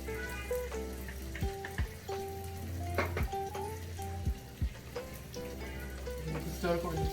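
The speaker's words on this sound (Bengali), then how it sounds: "আলুটা যতক্ষণ এখানে ফ্রাই হচ্ছে, এবার আলুর সাথে একবারে যে অনিয়নসটা ফ্রাই করেছিলাম ওটা ঢেলে দিলাম" Potatoes and fried onions for aloo egg masala sizzle faintly in a pan, with a few stirring clicks, under steady background music.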